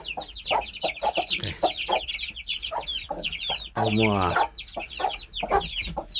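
Chickens cluck repeatedly up close in short choppy bursts, and a rooster crows once midway; a person speaks briefly among them.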